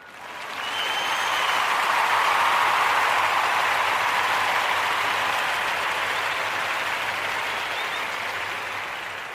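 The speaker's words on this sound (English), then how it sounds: "giving all of the Nia babies a round of applause" A studio audience gives a sustained round of applause for the Nia babies on a daily toast show, the clapping swelling quickly and holding steady and full for about nine seconds with no talking.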